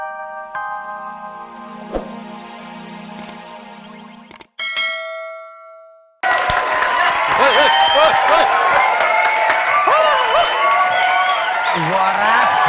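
A studio audience at an Indonesian TV comedy show bursts into loud, dense applause and crowd noise that runs steadily to the end, preceded by ringing bell-like dings and a brief silence.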